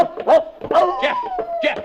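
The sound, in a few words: dog barking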